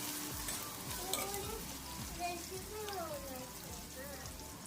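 Curry leaves crackle and sizzle as they hit a hot onion mixture in a pan, a quiet, busy spitting sound with a voice talking softly underneath.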